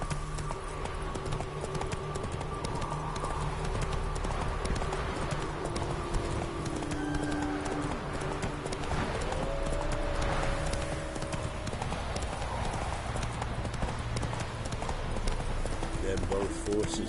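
Horse hooves clip-clopping in a video game, a steady, even rhythm of hoofbeats running throughout, with speech and faint game sounds over the top.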